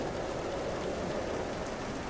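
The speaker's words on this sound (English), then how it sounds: "rain pitter-patters lightly on your deck" Light rain pattering steadily on a ship's deck, a soft continuous hiss of drops heard alone at low level without distinct individual hits.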